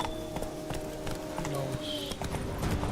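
Horse hooves clop in The Witcher 3, a quick regular beat of hoofbeats close and fairly loud, with a voice talking over the riding sounds.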